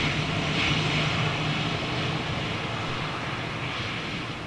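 An Airbus A319 with CFM56 engines roars steadily at Gatwick, a broad sustained jet rumble at moderate distance that fades slightly toward the end.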